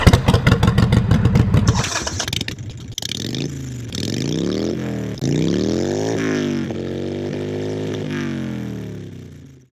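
A Harley Davidson Sportster 883 Iron motorcycle idles with a loud, lumpy rhythmic engine beat, then pulls away, revving up through several gears with rising and falling engine tones, close by.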